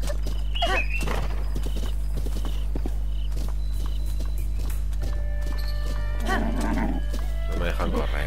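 A horse's hooves clip-clop in Zelda: Breath of the Wild, faint and steady beneath a continuous low hum, game music and bursts of creature or voice sounds.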